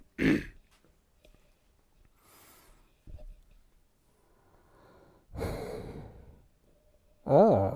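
A voice imitating the heavy, masked breathing of Bane, the Batman villain, in a few separate breathy bursts of varying length with quiet gaps between them, close to the microphone and with no clear words.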